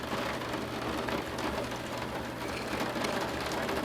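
Heavy rain pours steadily in a dense, constant roar, overwhelming the gutters, with a low rumble of thunder underneath and no talking.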